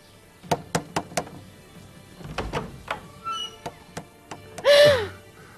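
A wooden door takes a series of sharp, close knocks in irregular bursts, first a group of four, then scattered thuds, before a voice cries out at the end.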